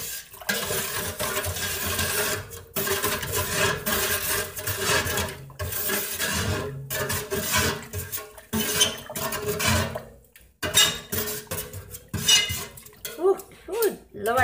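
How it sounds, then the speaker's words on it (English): Fabric dye being stirred in a pot, with continuous sloshing, scraping and clinking of utensils against the pot, uneven and fairly loud throughout. "But first I'm going to stir this up."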